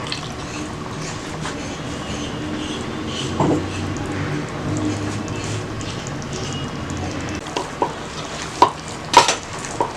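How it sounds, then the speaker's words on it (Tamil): Chicken curry masala being stirred in a pan, with steady soft scraping and sizzling throughout, then a few sharper clinks of the spoon against the pan near the end. "இப்போ நல்லா வந்து நம்ம மசாலாவோட கலக்கி விடலாம்."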